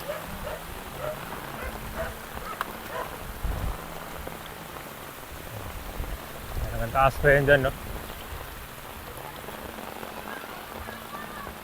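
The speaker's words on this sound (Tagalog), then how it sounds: "ulan." Steady rain pattering on a surface throughout, with a person briefly speaking over it and a short burst of louder splashing midway.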